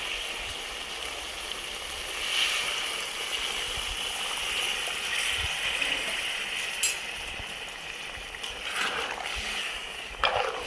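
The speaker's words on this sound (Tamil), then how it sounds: "இப்போ வந்து சுட தண்ணி சுட வச்சு வச்சுருக்கிறேன். இதை ஊற்ற போகிறேன்." Hot water is poured into country chicken masala cooking in a pot, a continuous close splashing, gurgling stream with a few faint clinks near the end.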